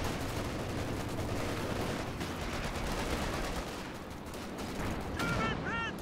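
Dense barrage of gunfire in a competitive strategy match, a continuous wall of crackling shots and blasts at steady loudness, with a brief whistling tone near the end.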